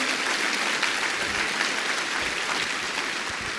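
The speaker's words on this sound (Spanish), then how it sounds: "Si tú lo crees, dale un aplauso" A church congregation bursts into loud, sustained applause for the Lord, a dense and steady wash of clapping from many hands, with a faint murmur of the crowd underneath.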